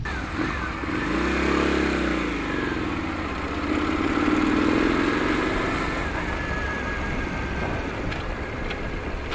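A Benda Napoleonbob 250 motorcycle with a slipper clutch, ridden on a test ride: the engine drones loud and close and rises and falls as the rider shifts gears, with a steady rush of wind throughout and no talking.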